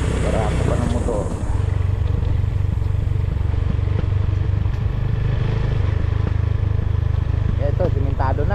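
A motorcycle climbs a narrow road, its engine droning steadily and fairly loud throughout, with someone talking over it.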